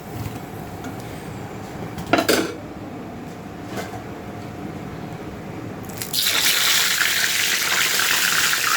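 Chicken frying in batches for biryani, with a low background sizzle, a few sharp clanks of a metal utensil against the pan and a louder rush of hissing toward the end.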